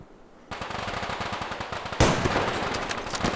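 Rapid automatic gunfire in the online shooter Survarium, a dense burst of rattling shots that starts abruptly, then a second louder volley kicks in partway through, close and continuous with no talking.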